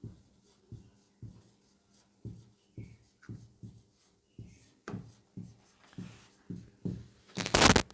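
Handwriting while a ranked list is written out, heard as soft, evenly spaced scratching strokes about twice a second, closing with a louder, longer rubbing sweep.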